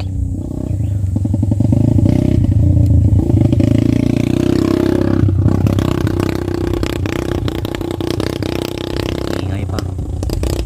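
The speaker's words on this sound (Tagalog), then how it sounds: "So ayan na naman yung motor guys," A motorcycle engine drones loudly and steadily throughout as it passes back and forth by a farm field, rising and falling slightly as it moves, with a brief clatter midway.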